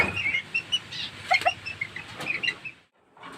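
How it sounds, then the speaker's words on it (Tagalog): A small serama hen clucks and chirps nearby in a string of short, bright, irregular calls, with a brief quiet pause near the end before another call begins. "this little chicken here."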